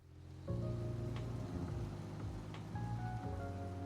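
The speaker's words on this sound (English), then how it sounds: "The rain kind of feels comfy in this." Steady rain pours in Trails Through Daybreak, a soft hissing wash that stays near and even for the whole stretch, laid under sustained game music with a few brief chime-like accents.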